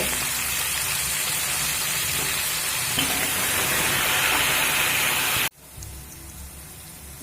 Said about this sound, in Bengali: এবার আমি উচ্ছেগুলো দিয়ে দেবো তবে উচ্ছেগুলো কিন্তু মিডিয়াম ফ্লেম করেই ভাজবো